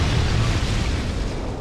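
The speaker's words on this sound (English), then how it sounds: "And here comes the explosion." An explosion in the video game Dark Souls 2, a loud, dense rumbling blast that fills the clip with sustained low roar and crackle, no voice over it.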